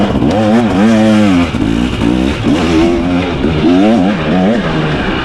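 A 2023 KTM 300XC TBI two-stroke dirt bike revs hard on a Crow Canyon single-track trail, its close, loud engine rising and falling in repeated throttle surges without a break.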